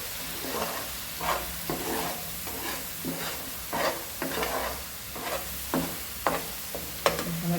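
Chili powder is sautéed in oil for chole, with a steady sizzle broken by repeated scraping stir strokes from a spoon in the pan, close and fairly quiet, with no speech.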